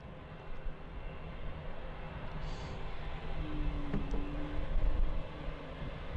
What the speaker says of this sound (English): Taxing up towards runway 19 left now, we have that Lufthansa A321.